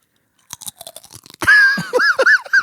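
Close crunching and chewing of taco pizza chips: a scatter of small crisp bites, then louder, denser crunches, all near and dry with no talking.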